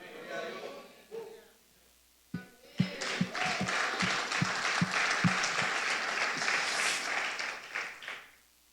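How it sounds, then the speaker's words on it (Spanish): A preacher speaks briefly during a church sermon, then the congregation bursts into a dense round of applause lasting about six seconds, with some distinct nearby claps, before it fades out. "Yo estoy que me aplaudo solo hoy"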